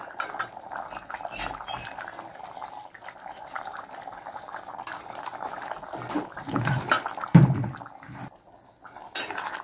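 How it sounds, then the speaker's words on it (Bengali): Paneer goes into a boiling curry gravy with clattering utensil and pot knocks over a low simmering bubble, close and moderately loud, with brief louder thumps near the end. "আমার ঝোল ফুটে উঠেছে। এবার আমি পনিরগুলো দেবো।"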